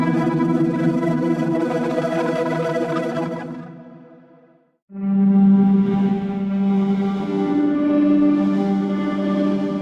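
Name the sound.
granular synth patch with drawn envelope curves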